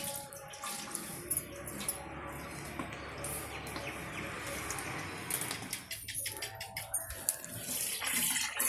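About 1.5 litres of cooking oil is poured into a pot on the stove for tomato rice, giving a steady, close, continuous pouring rush that runs throughout.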